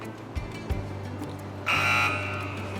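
An electronic quiz-show buzzer sounds at a Ramzan special game show, a loud, steady tone that starts partway through and holds for about a second before fading slightly, over a low background hum with a couple of soft thumps earlier.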